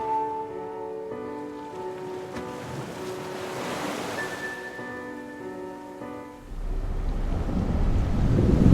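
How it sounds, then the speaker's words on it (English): Wind and waves crash against a cliff under a dark, thundering sky, a broad roar that swells louder near the end, with a sustained musical tone underneath and no talking. "Huge waves were crashing onto the cliff."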